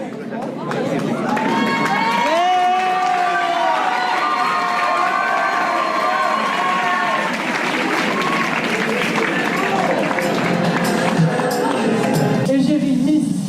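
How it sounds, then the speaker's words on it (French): An audience at a student pageant in Réunion applauds and cheers loudly for a contestant, with sustained clapping, shouts and excited voices, and music playing underneath throughout. "Sous vos applaudissements, s'il vous plaît."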